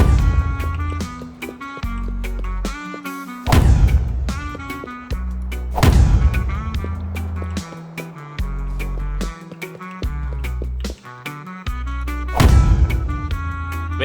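Repeated heavy booming shots from a plant bomb launcher in the video game Creativerse fire in bursts over a steady game soundtrack, each launch a deep thump followed by a brief rumble.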